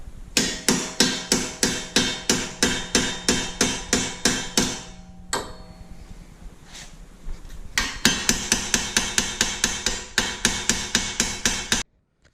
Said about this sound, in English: we're going to go at it with a hammer